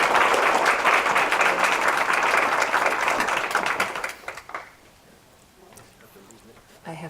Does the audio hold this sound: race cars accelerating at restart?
no